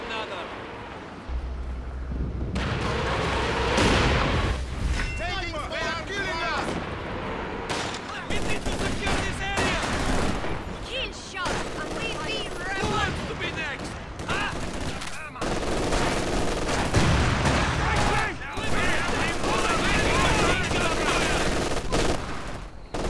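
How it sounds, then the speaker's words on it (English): Dense, continuous artillery barrage and rattling gunfire roar along a riverbank battle in Company of Heroes 2, near and loud throughout, with bursts of automatic fire and explosions layered over one another. "Friendly artillery will cover the riverbank with a decoy barrage to suppress the enemy!"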